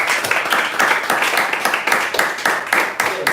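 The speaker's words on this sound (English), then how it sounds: "You keep clapping. You keep clapping." Audience clapping at a leadership academy event as a speaker is welcomed to the stage, a dense, steady burst of many hands with a loose rhythmic pulse, fairly loud and close.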